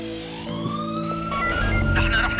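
A police car siren wails in a dubbed TV drama, its rising and falling tone sweeping steadily over background music and growing louder toward the end, with no one speaking.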